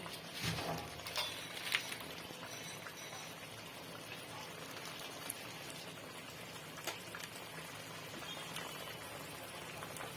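Boal fish curry gravy with tomato and paste simmering in a pan, giving a steady crackling bubble and patter throughout, fairly close and moderately quiet, with no voices.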